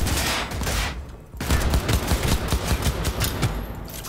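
Sustained gunfire rattles in a Cyberpunk 2077 firefight, a loud, close automatic barrage with a short pause before resuming in rapid pulses, with no talking.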